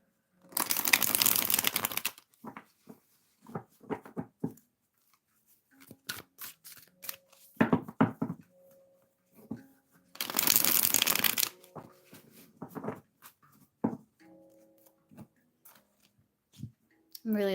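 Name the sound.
shuffling tarot cards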